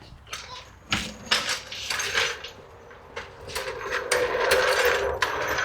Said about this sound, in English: Now I'll grab my floor jack.